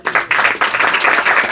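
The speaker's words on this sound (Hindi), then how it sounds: "उसके लिए जोरदार तालियां" Loud, dense applause from a crowd at a spiritual class gathering, steady claps filling the full stretch with a brief dip near the start.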